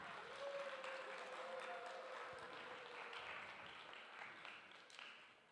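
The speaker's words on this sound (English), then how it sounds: "Yeah, you could clap for that." Young audience at a men's empowerment summit clapping, a fairly faint, dense wash of applause that slowly fades out, with a brief tonal squeal near the start.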